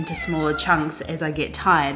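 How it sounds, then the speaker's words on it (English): A house cat meows several times in quick, drawn-out calls, close and loud, overlapping a person talking steadily indoors. "Apologies for the cat."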